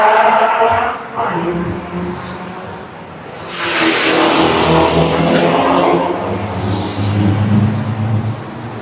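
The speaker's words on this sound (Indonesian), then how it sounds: "Gila, ada yang lagi balap." Classic race cars at the Monaco Historic Grand Prix, engines revving and roaring past among city buildings, loud bursts that swell and fade, with a person talking over them.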